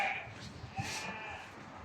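Tatalı breed ram lambs for sale in Beyləqan district bleat close by in short, wavering calls over a low outdoor rumble, with some faint voice in the background.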